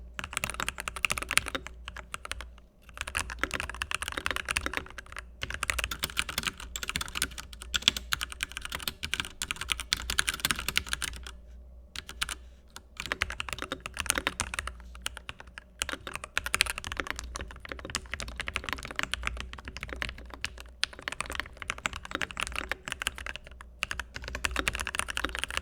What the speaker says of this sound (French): j'ai aussi un set de Gateron Yellow linéaires qui ont été lubrifiés à la main